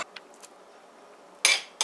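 A metal utensil mashes boiled potatoes in a pot for a Guyanese potato bake, giving two short scraping clatters of metal against the pot after a few faint clinks, with no talking.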